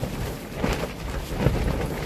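Thunder rumbles in a steady, broad roar with rain noise throughout a storm, loud and continuous with no voices.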